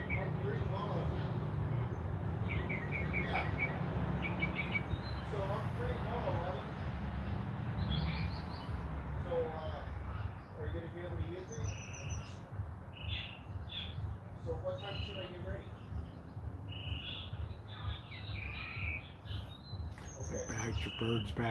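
Short chirps and tweets from a pet bird at home, repeated intermittently over steady indoor room noise and a low hum, with the bird fairly close.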